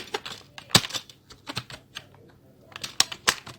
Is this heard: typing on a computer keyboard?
yes